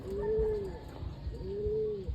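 Racing pigeons coo during training for a fun race in Pozorrubio. Two close, clear, drawn-out coos are heard about a second apart, with faint rustling underneath.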